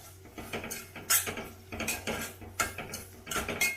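A spoon clinks and scrapes against a metal pot while Mysuru-style dal fry with tomato is stirred. The strokes come close together in irregular bursts, near and moderately loud, with no talking.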